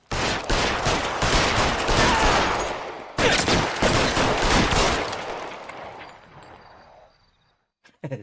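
Rapid automatic gunfire in a video game, a loud sustained burst fired at an enemy that breaks off briefly, resumes, and then fades out into near silence.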